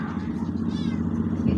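Several pet cats meow at home while someone talks over them; the meows are close and blend with the steady talk and household murmur.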